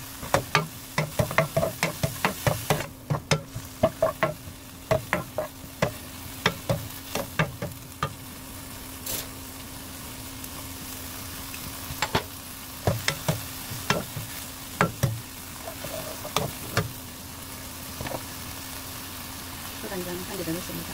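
Seasoned namul vegetables stir-fried in a pan with a splash of water, giving a low sizzle under repeated sharp clicks and scrapes of the spatula against the pan, with a voice talking at points.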